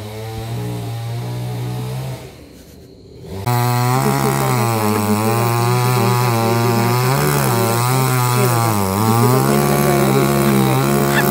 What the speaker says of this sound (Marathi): मागे ना झाडं कापायची कामं चालू आहेत